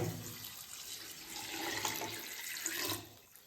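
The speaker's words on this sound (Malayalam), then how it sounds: "ഞാൻ ഒരു രണ്ടര ലിറ്റർ വെള്ളം ഇതിലേക്ക് ഒഴിക്കുവാണ്" A continuous stream of about two and a half litres of water pours and splashes into a pot, fairly quiet and close, tapering off at the end.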